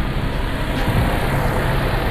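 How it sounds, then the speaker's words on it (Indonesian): A 2017 Toyota Kijang Innova G with a manual gearbox and a 2000cc petrol engine idles smoothly in good condition, giving a steady, even hum close by. "Nah ini suara mesinnya guys."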